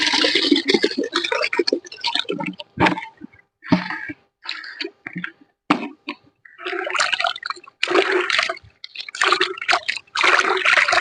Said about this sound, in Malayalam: ഈ ആദ്യം എടുത്ത പുളിയും ഉപ്പും കൂടെയുള്ള മിശ്രിതം ഈ ശർക്കര ലായനിയിലോട്ട് പകരുവാണ്.